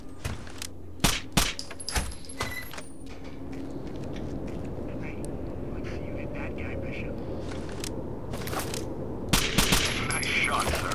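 Gunfire in the video game Rainbow Six Vegas 2 during a co-op campaign mission: a few sharp shots and short bursts early on, then a steady background rumble, with another cluster of shots near the end and voices talking over it.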